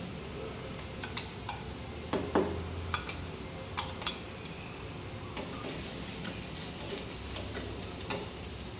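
Ingredients roast in a clay pot with a soft steady sizzle, broken by a few sharp scraping clicks of stirring, close and moderately quiet.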